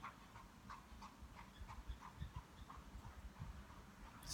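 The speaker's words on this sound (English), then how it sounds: "You hear that horse in the background?" A horse's hooves clip-clop faintly in the background, a soft, steady rhythmic clatter under a quiet outdoor hush.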